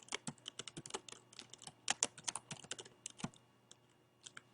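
Rapid, uneven keystrokes on a computer keyboard while entering text into spreadsheet cells, close and clear, with irregular bursts of clicks and a few short pauses.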